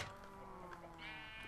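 A sheep in TerraFirmaCraft, a Minecraft mod, gives one drawn-out wavering bleat, quiet and alone with no speech.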